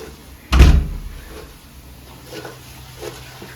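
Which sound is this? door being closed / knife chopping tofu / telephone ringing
door being closed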